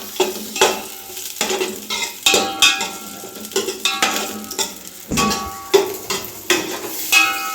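Onions frying in a pan for a fish sambar, with a loud, steady sizzle under repeated scraping and clinking stirs at close range, with no talking.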